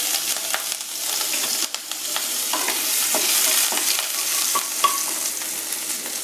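Finely chopped green chilli sizzles in hot oil with a continuous bright hiss and occasional light utensil taps, close and steady for a few seconds, no voices.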